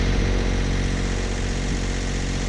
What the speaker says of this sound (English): So this is our normal cruising RPM of just around 1600, and as you can see we're only going about 4 knots.